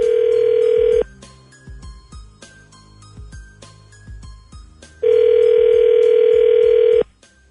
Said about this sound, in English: And then we'll call Brandon when we come back next